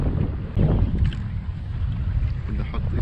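A kayak moving across the sea during a fishing trip, with steady wind buffeting the microphone over a low, continuous rush of water around the hull. No talking.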